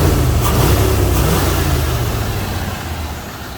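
Engine of a 1983 Chevrolet Monte Carlo revs loudly and close, a steady low rumble that holds through the clip and eases slightly toward the end.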